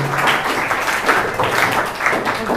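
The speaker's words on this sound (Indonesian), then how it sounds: "Beri tepuk tangan untuk kelompok 10." An audience of school students applauds a presenting group after a Qur'an presentation, a brief, dense burst of clapping heard close and steady throughout.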